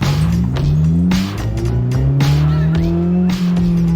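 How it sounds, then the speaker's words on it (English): Honda-style aftermarket Skunk2 Megapower RR exhaust on a car driving at night, a steady loud engine drone rising and falling with throttle and gear changes, close and continuous with brief dips between shifts. "I just love this exhaust, bro."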